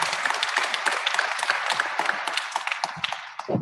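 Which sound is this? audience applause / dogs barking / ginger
audience applause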